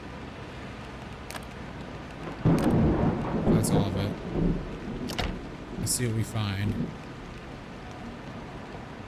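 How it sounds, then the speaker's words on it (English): Rumbling thunder over steady rain in the video game Project Zomboid, with a person speaking briefly over the storm. "That rain is getting really loud."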